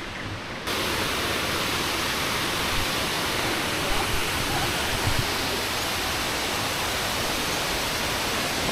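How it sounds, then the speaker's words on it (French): Small waterfalls cascading outdoors, a dense, continuous rushing roar of falling water that starts abruptly and stays loud and steady throughout, with faint bumps under it. "Ça a l'air vraiment magnifique, les gars, ces petites cascades là"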